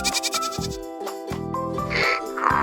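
A goat bleats in a few quavering calls, mixed with tinkling, musical backing tones.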